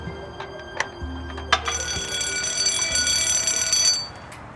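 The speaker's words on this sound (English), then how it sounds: "that is an alarm that when the door's open, if it's open for more than 10 seconds, the alarm goes off." A door alarm at a lion enclosure sounds after the door has been left open, a steady high-pitched electronic tone with stacked harmonics running continuously for several seconds, preceded by a few sharp clicks and knocks.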